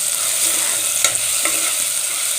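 Whole black peppercorns, cloves and cardamom sizzling in hot oil for a pulao, a loud continuous crackling fry close up with a couple of quick stirring scrapes.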